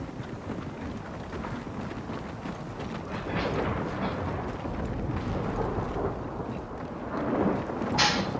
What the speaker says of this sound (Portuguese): lá vem outra tempestade de vento